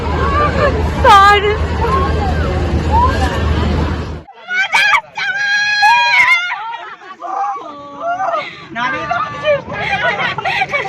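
A Ranger amusement ride starting up at a crowded fair: loud crowd babble and shouting at first, then a sudden shift to mechanical whirring and screeching tones with scattered screams and voices.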